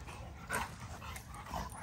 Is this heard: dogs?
yes